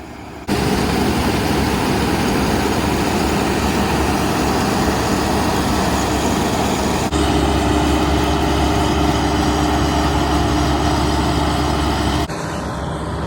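A Gleaner combine harvester runs in a wheat field, a loud, broadband engine roar with a deep low rumble, steady and close throughout, shifting slightly in tone partway through before easing near the end.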